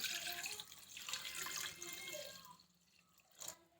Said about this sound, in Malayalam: നമ്മൾ ആവശ്യമായിട്ടുള്ള വെള്ളം ചേർത്ത് കൊടുക്കുകയാണ്